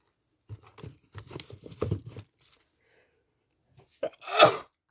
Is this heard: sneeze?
yes